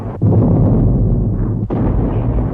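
A World War 1 artillery bombardment of the French lines, about a thousand guns firing on six miles of front, comes across as a loud, continuous, booming roar with one brief dip midway.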